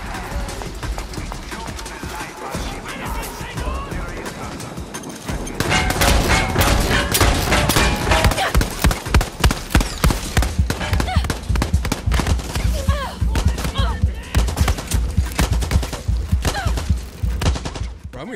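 Rapid bursts of Far Cry 6 gunfire crackle loudly and continuously, with dense overlapping shots and impacts after a quieter opening.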